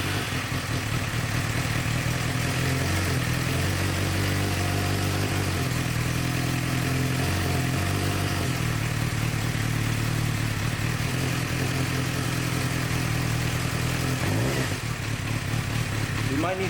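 A 2006-2007 Suzuki GSX-R 600 sportbike engine runs loud and steady at close range after a rebuild, holding a constant idle with slight revving fluctuations, with a voice speaking over it.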